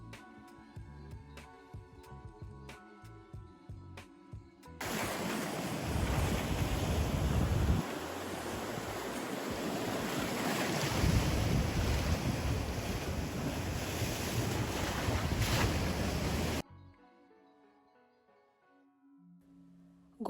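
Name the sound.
sea waves and wind at the shore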